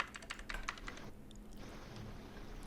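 Typing on a computer keyboard, a quick run of close keystrokes in the first second followed by quieter, sparser tapping, with no one talking.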